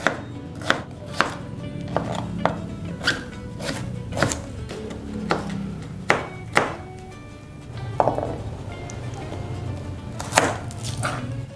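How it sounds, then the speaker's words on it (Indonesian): A knife dices an onion on a cutting board with sharp, close chops in irregular bursts, some rapid and some spaced, with quiet scraping and handling sounds between cuts. "Bawang bombay ini aku potong kecil-kecil aja, jadi di dice kotak-kotak gitu."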